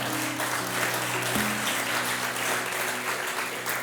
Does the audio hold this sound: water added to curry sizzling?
no